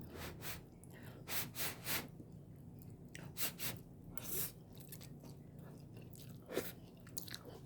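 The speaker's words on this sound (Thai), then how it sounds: "เดี๋ยวเราขออนุญาตชิมสักหน่อยนะครับผม" Baked Lao-style glass noodles are eaten close to the mic. Soft, moist chewing and slurping bites come in uneven bursts, with a few sniffs between them, in an otherwise quiet room.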